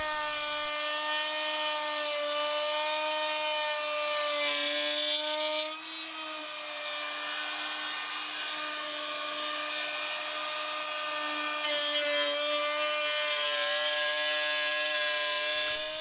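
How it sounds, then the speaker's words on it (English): A trim router cuts the inner parts of a wooden serving dish made from a branch, giving a steady high-pitched whine with strong tonal harmonics that holds throughout, with a brief dip midway, close and loud, with no talking. "eventually I switch over to using a trim router from the other side for the inner parts"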